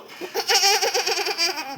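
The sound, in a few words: child imitating goat bleat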